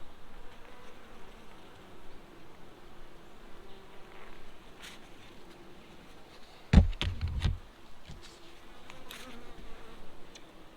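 Honey bees buzz steadily throughout a farm hive inspection, a continuous insect drone at moderate level, with a brief louder burst of nearby handling or knocking near the middle.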